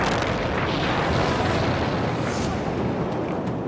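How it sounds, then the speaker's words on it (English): Explosion at a rocket fuel factory in a small desert town, heard as a sustained, loud, rumbling roar with broad noise that lingers for several seconds and slowly ebbs, without speech. "An earth-shattering explosion in a rocket fuel factory rocks this small desert town"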